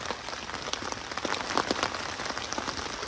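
Heavy rain pours down at a winter campsite, a dense steady patter of drops drumming on a nearby surface, continuous and even throughout with no voices.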